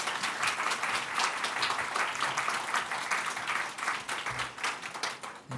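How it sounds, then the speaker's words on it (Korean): A church congregation at a Sunday service applauds to welcome a visiting pastor, steady sustained clapping from many hands in a large room that starts to taper off near the end. "목사님을 격려하는 의미에서 우리 박수로 환영하도록"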